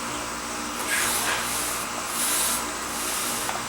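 A coat of sealer sprayed onto exposed-aggregate GFRC concrete gives a steady, close airy hiss, swelling in a few longer bursts over a constant background whir, with no talking.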